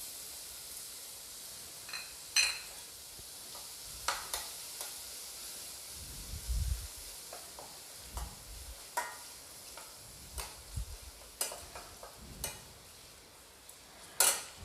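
Quiet, steady sizzling of garlic frying in cooled oil for amla pickle, punctuated by scattered clinks and scrapes of a utensil stirring in the pan.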